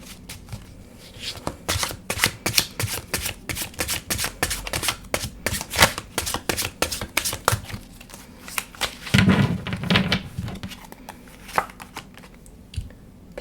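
A deck of tarot cards is shuffled by hand in a steady run of crisp riffles and flutters, close and fairly loud, with one longer, denser burst partway through.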